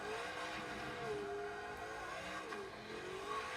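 Engine of a heavily modified front-wheel-drive Ford Focus race car in Forza Motorsport 7, a steady drone with pitch sweeping up and down as the wheels spin on the straights, faint and continuous.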